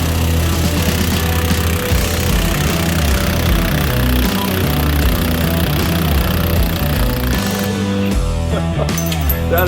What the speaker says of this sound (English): That is one badass drill.